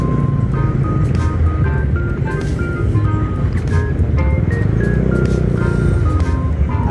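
A Yamaha Mio Sporty motor scooter ridden on a road in Iba, Zambales, its engine hum and wind rumble steady and loud throughout, with a few high tonal beeps or chirps passing over it.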